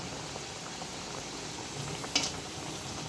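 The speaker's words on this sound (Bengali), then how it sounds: "তেল গরম হয়েছে, একটা ছেড়ে দেওয়া হইল, দেখা যাক কেমন ফুলে" A dal puri frying in hot oil gives a faint, steady bubbling hiss throughout, with one brief sharper crackle near the end and no talking.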